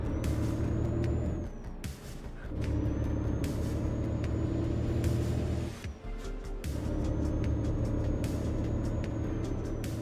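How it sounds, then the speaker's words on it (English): Euro Truck Simulator 2 truck drones with a steady low engine rumble, broken by repeated sharp hissing bursts of air brake release at regular intervals, with no talking. "Is the truck sound better now?"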